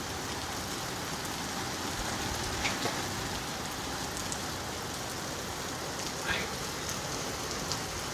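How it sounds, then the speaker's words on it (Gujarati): Heavy monsoon downpour in Surat, a dense, constant hiss of rain pouring onto surfaces nearby, steady throughout with no voices. "ભાઈ સુરતમાં ફૂલ વરસાદ છે."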